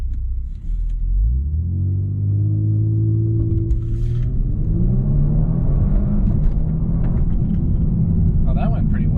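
A car engine revs up and climbs steadily in pitch as the vehicle accelerates down a runway in a drag race, with a low rumble throughout.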